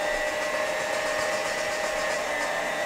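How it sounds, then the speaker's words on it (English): Electric hand mixer beating butter in a bowl, a steady continuous whir that runs loud and unbroken throughout with no pauses. "Keep moving the mixer also"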